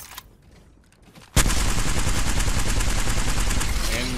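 Video game weapon gunfire that bursts in suddenly after a quiet moment, then continues as loud, rapid, sustained automatic fire.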